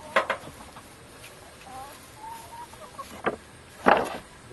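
Chickens cluck close by in short, uneven bursts, with a few louder squawks and soft murmuring calls between them outdoors.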